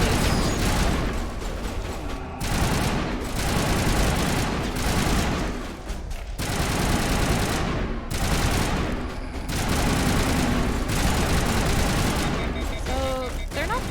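Repeated bursts of player gunfire in the Mass Effect video game, loud heavy volleys in clustered salvos separated by short pauses, with a voice talking over the shooting.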